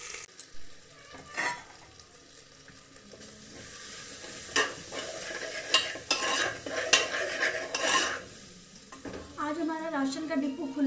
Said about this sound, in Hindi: आलू को हल्का सा मतलब भून कर उसके बाद मैं बढ़िया ऐड करूंगी इसमें